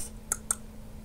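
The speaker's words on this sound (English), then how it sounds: "That was the sound of a lock, wasn't it?" A lock clicking in the Lego SpongeBob video game: two short, sharp clicks close together, crisp and near, with no talking.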